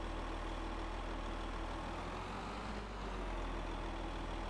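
A John Deere 6250R tractor engine runs steadily in Farming Simulator 22, a constant low diesel drone with a broad, even hum and no speech.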